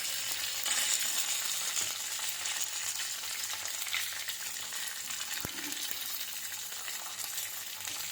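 Asafoetida and curry leaves fry in hot oil for gongura pachadi, a steady bright sizzle with a faint stir and one sharp tap partway through, close and continuous with no talk.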